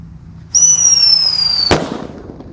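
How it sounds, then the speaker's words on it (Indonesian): A small Whistling Thunder firecracker lets out a shrill, steady whistle for about a second, then ends in a single sharp, loud bang that fades quickly outdoors. "Kita mulai dari yang paling kecil, ada Whistling Thunder."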